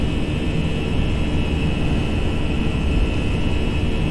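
Airbus A320 jet engines spooled up to takeoff thrust in the Prepar3D flight simulator, a loud, constant roar with a steady high whine on top, heard alone without speech.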